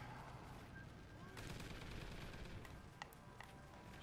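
A sentry gun in the video game Call of Duty: Ghosts fires quiet, distant bursts of automatic gunfire amid a dense, continuous game soundscape, with a few sharper shots toward the end.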